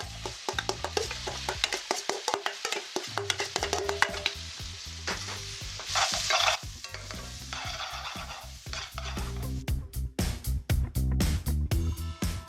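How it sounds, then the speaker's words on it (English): Onions frying in melted butter for butter paneer, a loud steady sizzle with repeated close scraping and clattering stirring strokes against the pan. "We're going to add in our onions."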